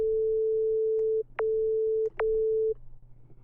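A synthesizer oscillator tone, transposed one octave higher, plays as a steady pure pitch in three sustained segments with brief sharp blips between them, over a faint low hum, then cuts off.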